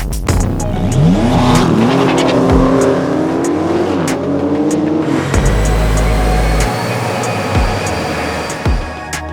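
A Porsche 992 911 4S flat-six revs up hard, its pitch climbing through a long rising sweep before dropping off, followed by lower rumbling and a couple of sharp blips, loud and close.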